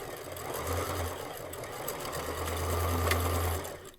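Sewing machine stitching lace onto a vintage blouse, running in two short bursts of steady whirring with a brief pause between, fairly quiet and close.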